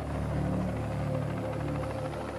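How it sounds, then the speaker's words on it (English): A big helicopter flying overhead near a mountain treasure dig, its rotor thumping in a steady, fast, close rhythm over a continuous engine whine. "That sounds like a big helicopter, don't it?"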